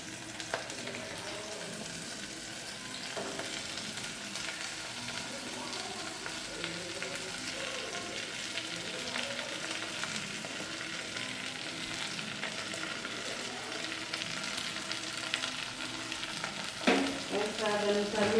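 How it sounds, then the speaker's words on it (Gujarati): Round-sliced okra sizzles and fries steadily in a pan for a Gujarati dish, a soft, even crackle throughout with a brief stir or clatter near the end. "આવી રીતના ગોળ ગોળ શેપમાં કાપેલા ભીંડા નાખશું"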